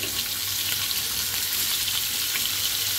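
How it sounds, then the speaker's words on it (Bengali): Cauliflower florets fry lightly in hot oil in a pan, giving a steady, close sizzle that holds evenly throughout with no talking. "ফুলকপিটাও আমি হালকা ভেজে নেব"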